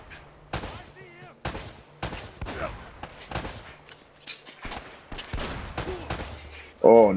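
Rapid bursts of gunfire from a shootout in the Uncharted video game, with loud repeated shots in an uneven rhythm, a brief voice in between, and a louder blast near the end.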